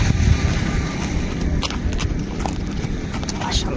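Horse riding during a trip in Cholistan, with hooves clip-clopping steadily under wind noise and nearby voices talking throughout.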